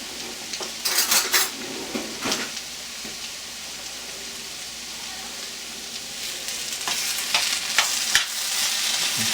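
Ground beef and potatoes cooking in a pan, giving a steady sizzle throughout with bursts of utensil clatter and scraping against the pan early on and again near the end.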